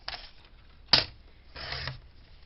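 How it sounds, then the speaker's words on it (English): A paper trimmer board slices paper for a stamping project: a short scrape, a sharp click of the blade, then another brief swishing cut, close and fairly quiet. "let's get my trim board out again, and I'm going to cut a little bit more off the bottom"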